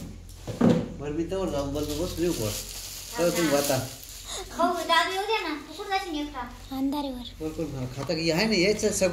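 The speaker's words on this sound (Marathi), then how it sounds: "आता मी ना डाळी डायरेक्ट फोडणी देऊन टाकते कुकरमध्ये" Oil sizzles and crackles steadily in a pan as dal tempering is done, with people talking over it and occasional clatter of utensils.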